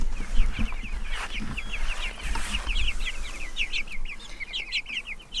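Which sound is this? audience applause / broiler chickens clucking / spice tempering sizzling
broiler chickens clucking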